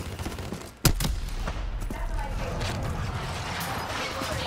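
Heavy automatic gunfire in Call of Duty Black Ops 3, a sharp close shot followed by sustained rapid bursts of rifle fire and battle noise, with voices calling out faintly beneath.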